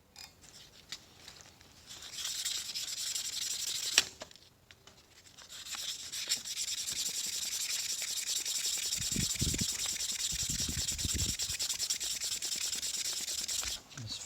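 A hand rubs 500 grit sandpaper over an ATI damper hub for a Dodge Magnum 360 crankshaft, a steady close scratchy rasping with short pauses and a few heavier strokes.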